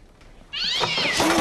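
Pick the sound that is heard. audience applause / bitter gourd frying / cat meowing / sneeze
cat meowing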